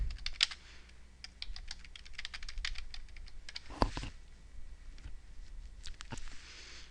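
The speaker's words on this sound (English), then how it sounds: "you can just start typing" Steady typing on a computer keyboard during a shape-drawing software lecture, with quick runs of light key clicks and one louder keystroke, close and alone with no voices.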